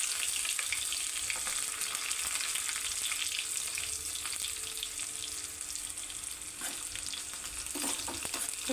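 Garlic and dried red chillies fry in hot oil with a loud, steady, bright sizzle and occasional stirring scrapes, close and continuous throughout, with no talking.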